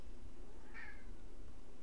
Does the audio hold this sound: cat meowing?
yes